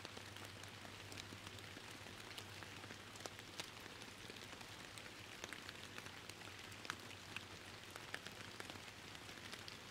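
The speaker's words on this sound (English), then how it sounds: "I love sitting in the rain with this kind of sound." Rain falls steadily on a lake in the fishing game Fishing Planet, a soft, even hiss of drops speckled with faint individual patters and a low hum beneath.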